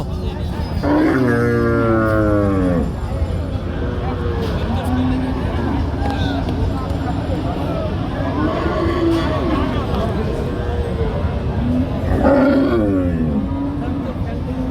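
Cattle at a Bangladeshi cattle market moo loudly in two drawn-out calls, one at the start and one near the end, amid busy crowd chatter and people talking throughout.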